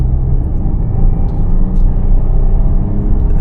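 Interior cabin sound of a Porsche Cayenne Platinum Edition with a 3.0 V6 (340 hp) on the move, a steady low engine and road rumble that holds loud and constant throughout.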